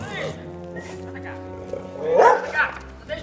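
A dog yips and barks briefly amid people talking, with a louder burst of barking near the end of the short stretch.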